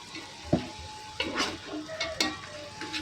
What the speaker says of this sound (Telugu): అల్లం వెల్లుల్లిపాయ కూడా వేసి బాగా వేపారు.